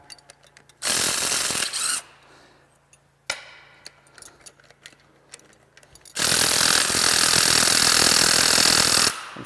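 An impact wrench loosens exhaust manifold bolts on a Caterpillar C15 diesel engine: two loud, close bursts of harsh rattling hammering, a short one and then a longer sustained run, separated by quieter clanks and tool handling.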